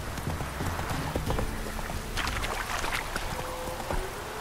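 Hooves of the horse Roach clip-clopping at a quick gallop in The Witcher 3 video game, a steady rapid beat under continuous ambient game sound, loud and close.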